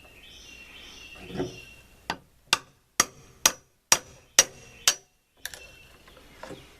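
Seven sharp hammer taps ring out one after another at a steady, unhurried pace, each a crisp metallic knock in an otherwise quiet space, knocking out cut notches in shelving.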